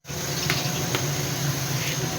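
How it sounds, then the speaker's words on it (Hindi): Water pouring into a cooking pot for steamed chargha rice, a steady close gush with a faint clatter, no talk over it. "पानी शामिल कर देते हैं।"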